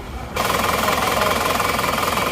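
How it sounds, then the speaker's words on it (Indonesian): A car engine running after a cold start, a steady rapid knocking rumble that kicks in abruptly and holds a fairly loud, even clatter nearby with no talk. "Seperti ini mesinnya."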